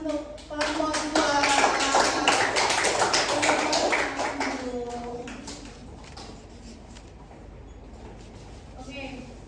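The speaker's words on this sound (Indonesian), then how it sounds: "beri aplaus untuk kelompok 2" Audience applause for a student group at a classroom presentation, loud rapid clapping for about five seconds that fades out, with voices talking over and after it.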